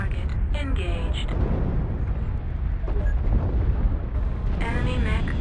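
An enemy mech is destroyed in MechWarrior Online, setting off a loud, sustained roaring explosion with crackling bursts and rumble throughout, while radio-style voice callouts speak over it.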